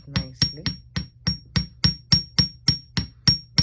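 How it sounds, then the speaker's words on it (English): A hammer striking wire for earrings, thirteen sharp metallic taps in an even, quick rhythm, close and loud with no talking. "I just hammer it nicely"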